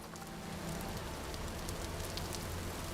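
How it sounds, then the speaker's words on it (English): Rainfall in the video game Vintage Story, a constant close wash of droplets hissing and pattering without pause, unbroken by any talk. "It's raining."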